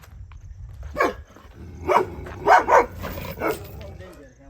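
A dog barks several times in short, irregular bursts, moderately close, against a low background rumble, on a farm.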